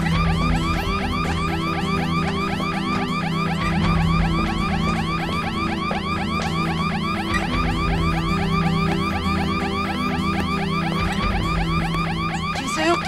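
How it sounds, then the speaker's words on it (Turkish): A fire alarm ringing in a neighbouring house, a loud, continuous rapid warbling electronic alarm tone that runs without a break, with a steady low hum underneath. "5 numaranın yangın alarmı çalıyor."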